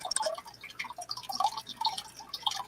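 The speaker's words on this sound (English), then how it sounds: "You know what you're hearing is water dripping." Water drips in quick, irregular plinks and taps, each one faint and close, scattered unevenly with no other sound over them.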